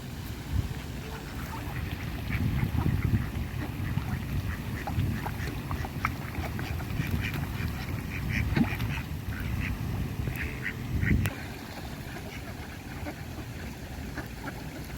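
Ducks in a park quack repeatedly as they are fed specially made food, a busy cluster of calls close by over low outdoor rumble, with a few louder bursts scattered through.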